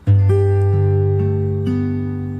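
Slow fingerstyle acoustic guitar phrase from a song, a handful of plucked notes ringing out and sustaining over a held bass note, clear and close with no talk.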